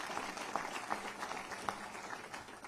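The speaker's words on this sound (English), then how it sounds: "Give her a round of applause in welcoming her." A town hall audience gives a faint, distant round of applause, with scattered individual claps standing out from the soft crowd noise.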